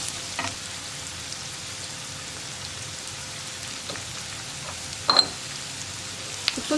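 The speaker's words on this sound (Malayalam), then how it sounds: "ഇതിനി ഒന്ന് സോഫ്റ്റ് ആയി വരുന്നത് വരെ വഴറ്റിയെടുക്കുക" Onions with salt sauté in a pan for an egg curry, a quiet, steady low sizzle close by, broken by a few brief clinks and scrapes, with no one talking.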